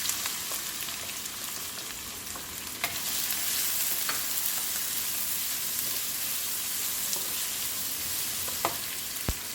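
Onions frying in a pan with cinnamon, cloves and cardamom for chicken kuruma, a continuous bright sizzle close by with a few sharp stirring clicks and pops.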